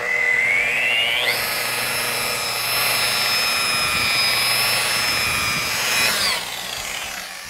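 A rotary polisher with compound on its pad buffs car paint at a car show. Its close, loud whine rises in pitch as it spins up, holds steady for several seconds, then drops away as the tool eases off.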